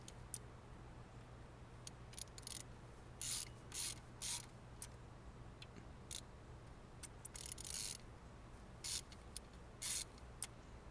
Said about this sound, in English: So I'm just breaking loose the other set of the roller rocker bolts here.